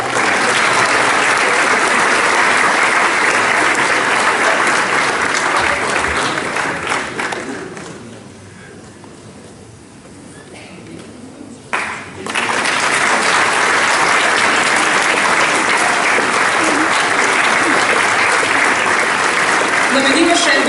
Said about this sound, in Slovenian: Namenimo še en velik aplavz